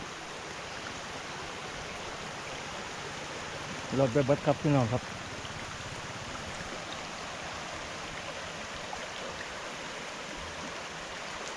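Flood water after heavy rain rushes in a steady broadband roar, close and continuous, while someone talks over it and a brief engine-like buzz rises for about a second midway.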